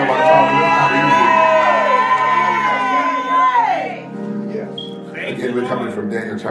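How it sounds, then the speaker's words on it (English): A church congregation cheers loudly, with whoops and shouts sustained for several seconds before tapering into a noisy murmur of voices. "let's give him a round of applause"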